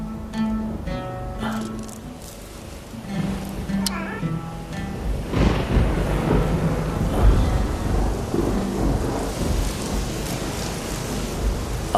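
Rain falls steadily in a thunderstorm scene, rising into a dense wash of noise with low rumbling, after an opening stretch with a voice and tonal music over it.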